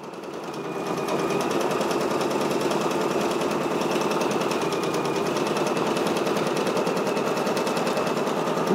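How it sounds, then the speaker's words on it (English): A Brother PRS100 embroidery machine stitches out a patch with a loud, continuous rapid clatter that holds steady throughout, close by and with no talking. "so that way you guys can just enjoy this patch stitch out"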